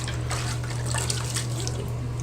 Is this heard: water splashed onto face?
yes